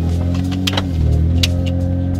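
Honda Accord car with its engine running, a steady low hum and drone in the cabin with a few brief clicks and rustles on top, no talking.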